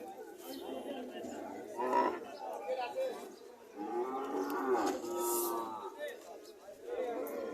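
Cattle moo several times amid a busy outdoor crowd at a cattle market in Chauyara, Cumilla, deep drawn-out lows rising over people chattering in the background.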